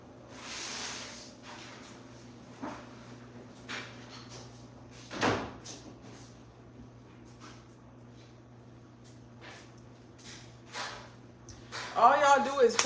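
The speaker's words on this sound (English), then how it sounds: "I'm going to close the door so you can be quieter." An indoor door shuts once with a single sharp thud midway through, set against a steady room hum, scattered knocks and faint voices in the background.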